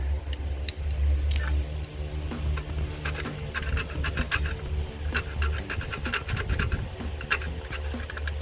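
A metal scribe scratches an alignment mark onto a strut on a 1998 Toyota Avalon, producing short, irregular scraping strokes close up over a low steady background hum.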